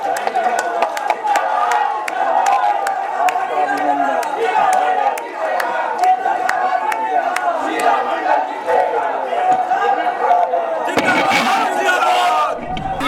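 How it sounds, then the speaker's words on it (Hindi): Crowd at a political rally in Phulparas with Madhya Pradesh Chief Minister Mohan Yadav claps and cheers loudly and continuously, with sharp pops and shouts throughout and a louder burst near the end. "तो जोरदार ताली बजा के अभिनंदन करें हमारे अपनी बहन शीला मंडल जी का"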